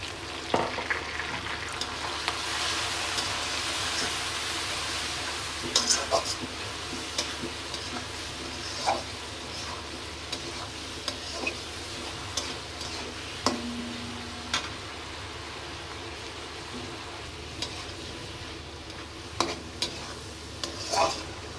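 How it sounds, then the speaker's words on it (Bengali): Onions sizzle steadily in a hot pan, with occasional clicks and scrapes of stirring breaking through the constant frying hiss. "পেঁয়াজ ভাজা হয়ে গেছে এখন দিয়ে দেবো উপরে আমি"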